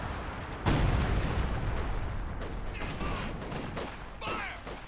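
Grenade blasts and artillery fire from the World War II strategy game Company of Heroes 2, a dense, loud barrage of booms and bursts with no pause, swelling at the start and again near the end.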